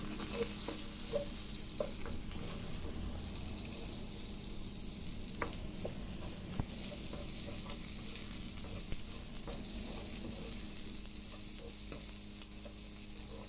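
Onion sautéing in a small amount of oil in a pan, a steady soft sizzle with occasional stirring clicks and scrapes running throughout, close and continuous.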